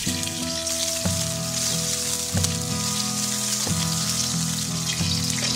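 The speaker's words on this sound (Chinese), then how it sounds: "起锅烧油，放入葱花炒香" Scallions sizzle and crackle steadily in hot oil in a wok, a dense close frying hiss with regular clinks of the spatula about once a second as they are stirred.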